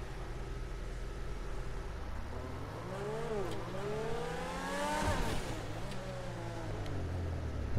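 A Grotti X80 sports car in GTA Online revs and accelerates through rising, shifting engine tones, peaking in a louder surge before settling into a steady drone.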